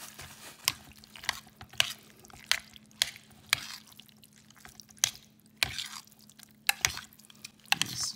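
Cauliflower is stirred in a casserole dish, giving a run of sharp, wet clicks and squelches roughly once a second, close and fairly quiet over a low steady hum, with no talking.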